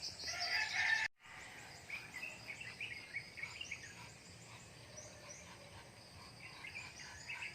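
Broiler chickens cluck and call in their pen outdoors, faint and fairly distant, over a steady background of insect chirping.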